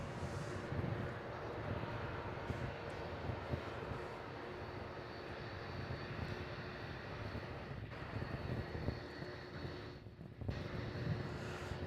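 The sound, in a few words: airliner arriving at Melbourne Airport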